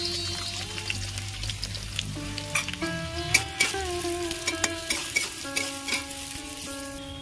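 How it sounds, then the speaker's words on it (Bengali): Sliced onions fry in hot oil to make crisp beresta for Kolkata chicken biryani, a steady sizzle broken by spatula clinks and scrapes, with soft background music running underneath and no speech. "তেল গরম হয়ে গেছে, আমি পেঁয়াজ বেরেস্তাটা করে নেব।"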